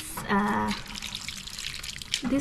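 Water is poured from a small container onto plants, a close, continuous splashing trickle lasting a couple of seconds, with a brief voice heard at the start and end.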